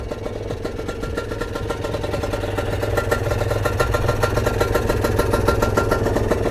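A two-stroke motorcycle engine runs steadily close by, its dense buzzing rhythm holding throughout and growing slightly louder in the second half, with no talk over it.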